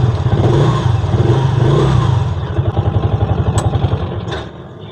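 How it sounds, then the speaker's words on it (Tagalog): A Piaggio Ape City 230cc three-wheeler engine runs close by, revving briefly then chugging at a steady idle with a rhythmic, clattering pulse. "Ayan yung tunog ng isang Piaggio Api."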